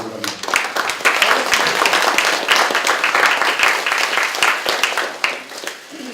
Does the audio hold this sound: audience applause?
yes